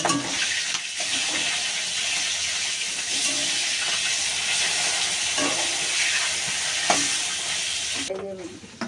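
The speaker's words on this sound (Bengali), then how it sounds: "চলো মাছের মাথাটা ভেজে নিই আমি।" A fish head fries in hot oil, giving a continuous close sizzle and spatter with occasional stirring knocks, steady throughout before the hiss drops away near the end; no voices.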